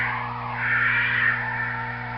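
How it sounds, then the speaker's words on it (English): A faint whooshing, swelling electronic tone rises and falls over a constant low hum, a Star Wars Smart Play toy starfighter's flying effect. "you can move it and it sounds like it is flying."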